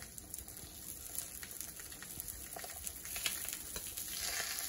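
McGriddles sizzle on a Blackstone griddle in a steady, fairly soft crackling hiss that runs unbroken throughout, with no voices.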